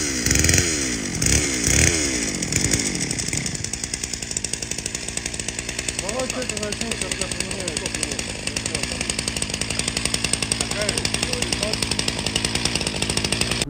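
A ZimAni gasoline chainsaw roars as loggers fell trees in a forest, revving hard at first and then settling into a loud, steady cutting drone that holds throughout.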